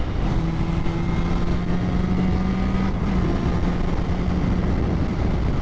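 A Suzuki RG500 motorcycle engine running on the road, a steady droning two-stroke note held at constant pitch, with a slight shift partway through and continuous wind noise underneath.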